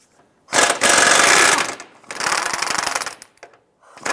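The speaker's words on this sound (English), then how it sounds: "Using a 19mm socket, let's go ahead and remove the forward control arm bolt." A 19mm socket on a power tool works loose the forward control arm bolt of a 2001-2005 Honda Civic, loud close rattling bursts of impact hammering with short pauses between them.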